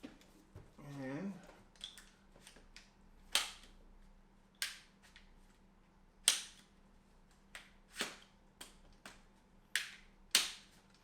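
Sharp metallic clicks from a UTG Pro S1 series stock being adjusted and locked on an AR-15, about ten crisp snaps spaced a second or so apart, close and clear against a quiet room, with brief talk early on.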